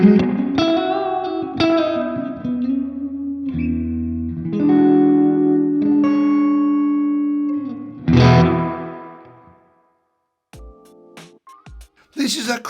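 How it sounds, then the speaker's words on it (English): Guitar through a Laney IRF Dualtop 60-watt dual-channel amp with a springy reverb: chords and notes ring with a bouncy, wet tail, then a final strum decays into near silence before a few brief knocks, close and clear. "It sounds like it's a little bit springy or something."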